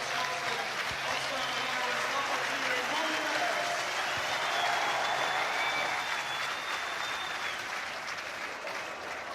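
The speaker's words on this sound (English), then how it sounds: "And listen to this Scotstoun crowd." At Scotstoun Stadium, around 10,000 rugby fans give a departing Ulster player a standing ovation with loud, sustained applause and cheering, while a commentator talks over it and a high whistle rises midway.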